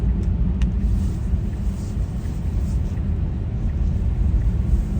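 Car driving along a rerouted side road past highway roadworks, a steady low road rumble and engine drone holding even throughout at close range, with no voices.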